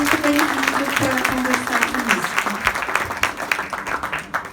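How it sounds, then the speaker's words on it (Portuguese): Audience applause welcoming a guest onto a stage, a dense steady clapping that carries on throughout, with a voice speaking over it in the first half before the clapping tapers slightly toward the end. "uma salva de palmas"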